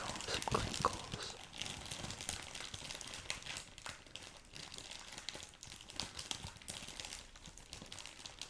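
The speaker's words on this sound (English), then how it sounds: "Get our wrapping off. Of course, we gotta do some crinkles." Plastic wrapping is peeled and crinkled off a Bowman basketball card box, soft close-up crackles and rustles continuing steadily at a quiet, intimate level.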